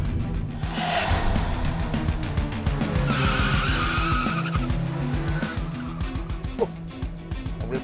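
A car races along at speed with a steady engine roar, and a tire skid screeches across the middle of the stretch before the drive carries on loud and close.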